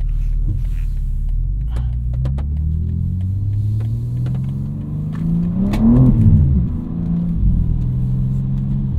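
A BMW M4 accelerates hard on a wet road with traction control off, its engine climbing through revs and shifting in rising sweeps, then surging to a loud peak before easing off.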